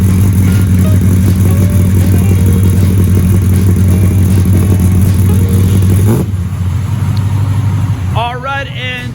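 1968 Plymouth Road Runner V8 engine rumbling loud and steady from inside the car on a ride along, then the note drops sharply as it eases off, with a brief squeal near the end.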